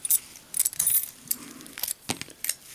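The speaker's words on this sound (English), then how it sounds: "There's the keys." Metal keys jangling near the microphone after a Master No.4 brass padlock is picked, a series of bright irregular clinks and rattles in several bursts.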